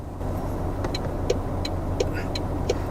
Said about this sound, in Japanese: ウインカー作動音をつけます。